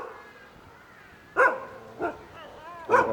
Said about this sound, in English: And of course the obligatory temple dog.